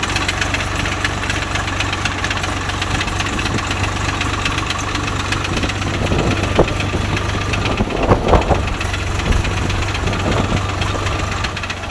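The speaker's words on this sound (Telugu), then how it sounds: "అన్ని గేర్లలోనూ ఒకటే సౌండ్ కొన్ని దాళ్ళకి ఫోర్త్ గేర్లో సౌండ్ రాదు కానీ దీనికి అన్ని గేర్లలోనూ సౌండ్ వస్తాను" A Swaraj 744FE tractor with a faulty gearbox runs continuously up close, its engine droning and knocking with a steady low rumble and a few louder rattling bursts near the end.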